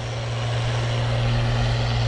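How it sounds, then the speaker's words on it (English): A farm tractor hauling a fertilizer planter runs close by while turning around, its engine a loud, steady, droning hum that holds without a break, with no voices. "I guess let's turn the tractor around."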